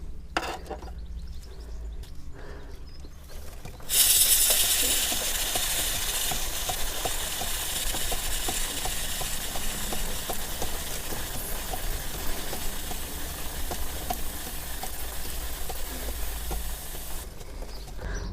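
A water spray rinses the chain of a Honda CB500X motorcycle, a loud steady hiss that starts abruptly and runs unbroken for about thirteen seconds before cutting off.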